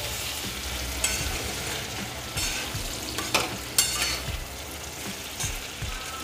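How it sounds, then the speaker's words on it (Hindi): Potatoes frying in a pan for sabudana khichdi, a steady close sizzle with occasional stirring scrapes and clinks throughout, no talking. "पोटैटो डालने के बाद 1 to 2 मिनट्स हम पोटैटो को फ्राई करेंगे इसमें"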